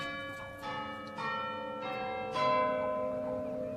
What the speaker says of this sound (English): And the chimes held no encouragement for Trotty at all.